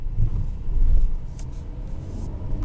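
A 2021 Kia Telluride SX Nightfall Edition rolls over a road bump, producing a low thudding rumble with two heavier jolts in quick succession beneath the steady road and engine drone.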